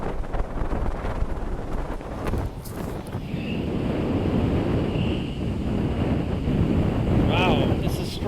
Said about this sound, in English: Wow, this is strong wind.